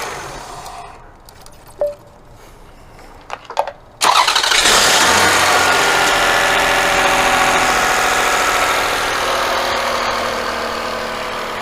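A 2004 Toyota Avalon engine cranks and fires up after a few quiet clicks and handling sounds, then settles into a steady, loud idle with a possible belt noise underneath.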